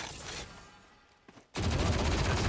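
Odin machine gun in Valorant: a quiet trailing rattle fades out, a brief pop sounds, then a loud, dense burst of rapid automatic fire erupts and holds to the end.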